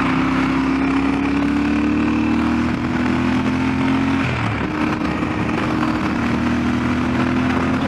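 Yamaha Ténéré 700 motorcycle engine pulling hard under acceleration while riding, a steady loud drone that rises in pitch, dips briefly at a gear change, then climbs again over constant wind roar.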